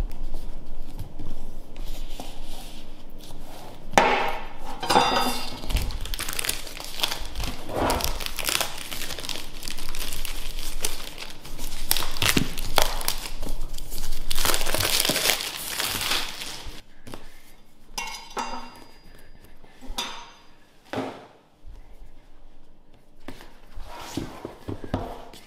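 Close crinkling and rustling of packaging as a DJI OM 4 box is opened and unpacked, with irregular bursts of crumpling and handling noises and quieter pauses between.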